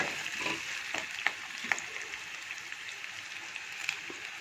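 Salted onions sauteing in a pan for hotel-style chicken kurma, a soft, steady crackle with occasional light clicks of a spoon, fairly quiet and close, no voices.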